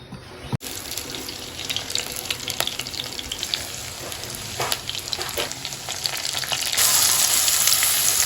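Onions sizzle in hot oil for a tadka in a home kitchen, a close, steady frying hiss with bubbling crackle that swells louder near the end, no talking.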